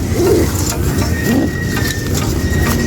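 Checker pigeons cooing in a loft, soft low coos repeating a few times close by over a steady background hum.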